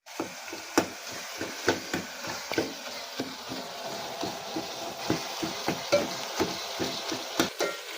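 A spoon stirs gongura chicken curry in a pot with repeated scraping strokes at a steady rhythm, close and moderately loud, with a faint sizzle underneath and no talk.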